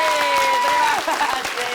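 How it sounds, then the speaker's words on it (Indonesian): Studio audience applause on an Indonesian comedy show, a dense wash of clapping running throughout with a voice calling over it. "Sekali lagi kita kasih tepuk tangan buat Bang Opi, Bang Bolot, dan juga Narji"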